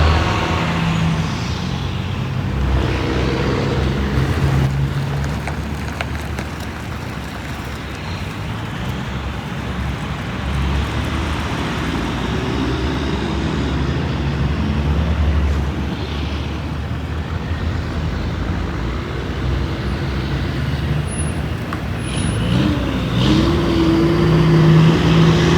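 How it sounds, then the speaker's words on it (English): Convoy of vehicles, including a big camper pulled by a truck, driving past on the road to Kansas: a sustained roar of engines and tires, loud and near, swelling and easing as each vehicle passes. "The big camper going. That's to be pulled by truck."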